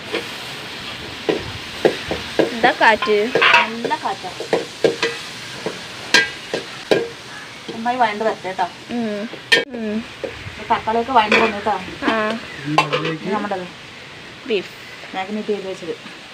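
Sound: onions frying and being stirred in a pan

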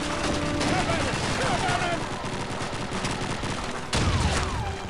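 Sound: gunfire in Call of Duty 2 video game

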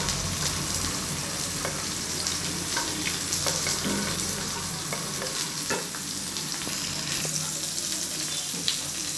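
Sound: mustard seed tempering frying on low flame

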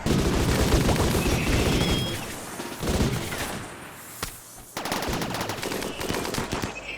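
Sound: gunfire from the video game Rimworld

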